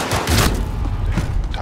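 A stun grenade goes off in Call of Duty Modern Warfare 2019 on the Hackney Yard map, giving a loud burst of booming, crackling blasts, with a brief voice under them.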